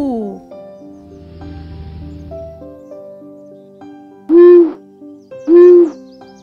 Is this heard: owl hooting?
yes